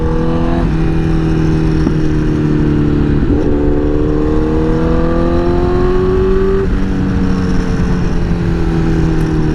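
A liter bike revs continuously while being ridden, with loud, close engine drone climbing in pitch through gear changes, a steady roar with wind behind it.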